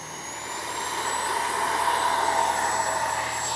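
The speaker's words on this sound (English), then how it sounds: "just taking off. I'm going to gun it." A Freewing 80mm F-22 RC jet with its ducted fan at full power for takeoff, a rising whine and rushing roar that swells after the first half second and then holds steady and fairly loud, with a thin high tone above it.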